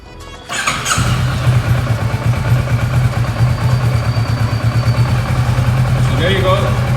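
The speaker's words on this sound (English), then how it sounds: "So let's go ahead and start up the engine." A Versys 650 motorcycle engine cranks briefly and catches, then settles into a steady, loud idle with a low, throbbing rhythm.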